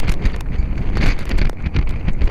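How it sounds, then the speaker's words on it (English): Steady, rough wind buffeting the microphone outdoors, gusting in uneven surges throughout with no other clear sounds. "it's very windy today."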